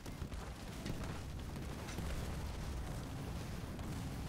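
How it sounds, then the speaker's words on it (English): An enemy building blowing up in the video game Halo Wars 2, a dense rumbling explosion that rolls on continuously, loud and full-bodied, with no talk over it. "Destroyed an enemy building."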